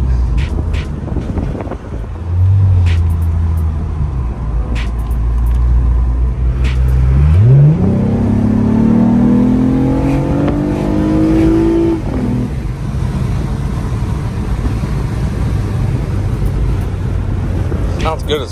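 A Lexus IS300 fitted with a Takeda intake, eco mode off, sits idling and then revs up in one rising pull before settling back down. It is loud and close, with wind noise and people talking over it.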